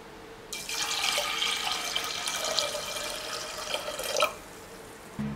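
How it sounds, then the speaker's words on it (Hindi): Water pouring steadily into a pot holding washed chana dal for puran poli, a continuous close splashing stream lasting several seconds before stopping abruptly, with no talk. "इसमें मैं 2 ग्लास पानी ऐड करूंगी।"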